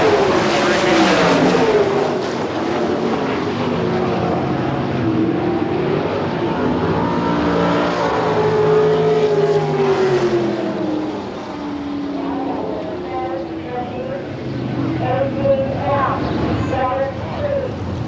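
Sprint race cars roar around a dirt oval at an All Star Circuit of Champions Spring Nationals event in Hartford, Ohio, with engine drones rising and falling as they pass under continuous announcer commentary.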